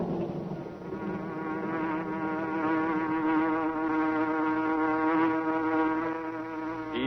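Buzzing hornet sound effect for The Green Hornet radio drama, a loud, continuous insect drone with a wavering, swelling pitch that holds steady for several seconds.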